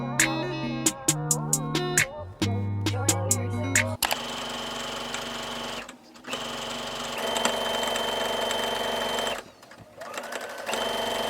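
A sewing machine stitches a prom dress in quick, stuttering bursts at first, then runs in long, steady whirring stretches broken by two brief pauses, loud and close.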